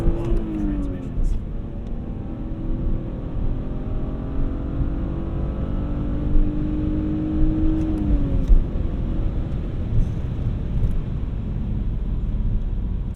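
BMW E46 330i ZHP on a road drive, with a steady engine drone and rising, falling gear-change tones that stay continuous beneath people talking inside the car throughout.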